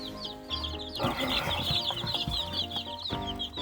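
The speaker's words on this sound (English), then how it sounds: "So these are rescue chickens." Several rescue chickens cluck and chatter close by in a busy, overlapping flock, with repeated short calls and occasional louder squawks.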